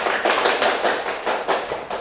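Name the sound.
audience applause in a lecture hall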